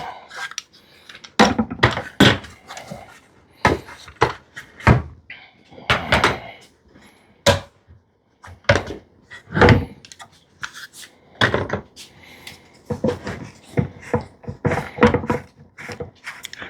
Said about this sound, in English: So we're going to pull clamps and start to look at what we ended up with.